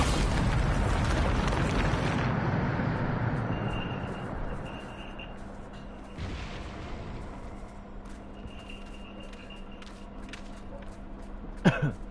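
A Bombarda spell detonates in a Hogwarts wizarding video game, a loud blast rolling out at the start and fading into a rumbling tail, followed by quieter ambient game sounds and a sharp pop near the end.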